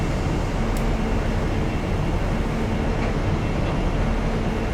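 A train slowing under braking in the Railworks 3 Train Simulator game gives a steady, dense rumble and roar with faint clicks, constant and loud throughout, no voices.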